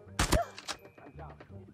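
Shotgun blasts in Call of Duty Mobile: two close, loud booming shots in rapid succession, followed by fainter game thuds and clatter.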